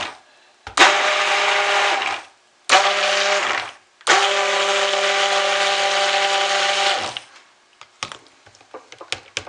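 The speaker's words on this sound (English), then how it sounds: "So let's put the stick blender down in there." A stick blender mixes lemon verbena soap batter in three whirring bursts, each a steady motor hum cut off by short pauses. Light knocks and clicks of the blender being handled follow.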